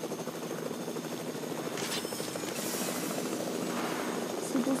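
Helicopter flying in Fortnite, a continuous rotor and engine drone heard close and steady throughout, with faint voice traces at times.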